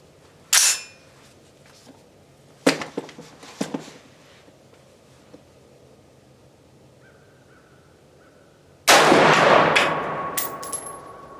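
A budget-built BCA/PSA .223 Wylde rifle fires several sharp, loud shots at an outdoor range, spaced a second or two apart, with a longer echoing blast and roar near the end.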